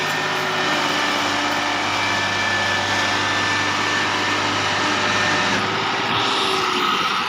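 A tractor engine drones continuously while hauling a trailer up a climb, a steady loud mechanical roar with a constant hum and no pauses.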